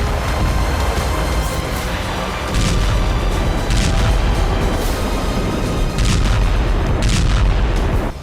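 Artillery shelling in Bakhmut sends heavy booms and blasts rolling through the war zone one after another at irregular intervals, each a loud, deep impact over continuous rumbling background noise.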